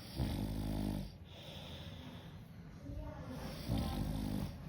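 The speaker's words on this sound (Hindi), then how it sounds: "तो दोस्तों ये कुछ इस तरह से खर्राटे लेता है" A man asleep outdoors without a fan snores loudly and close by in long rasping, wheezy breaths, two or three cycles running steadily with a faint background hiss.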